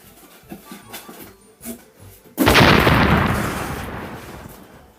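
Bombs explode: after a few faint taps and knocks, a sudden loud blast bursts in, then rolls on as a rumbling roar that slowly fades.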